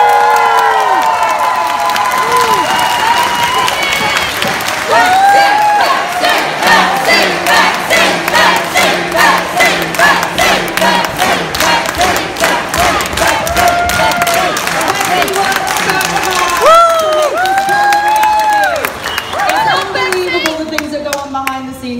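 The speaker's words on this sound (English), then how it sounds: "I think we should have a huge, heckin' round of applause for Betsy." A large audience at a convention stage, a pony fan event, bursts into loud sustained applause, cheering and whooping, with shouts rising throughout and dense clapping close by.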